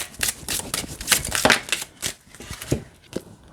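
An oracle card deck being shuffled by hand, a quick run of crisp papery riffles and soft slaps, close and clear, with no talking.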